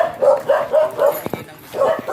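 An aggressive Belgian dog barks in a quick series of loud, close, sharp barks with a yipping edge, pausing briefly before barking again, while people talk nearby.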